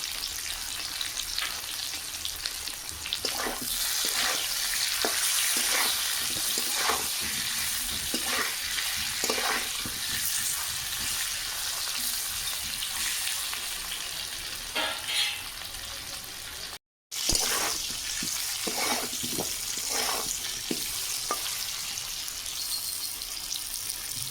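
Potatoes frying in oil with salt and turmeric give a continuous, close sizzle, with repeated stirring scrapes and one very brief dropout partway through; no one speaks.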